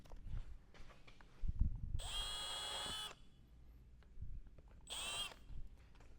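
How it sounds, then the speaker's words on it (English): A power drill bores countersunk holes in a car side skirt extension for a MK7/7.5 Golf, GTI, R or Jetta/GLI, with two close whirring bursts, the first about a second long and the second shorter. "So I'll drill all these holes."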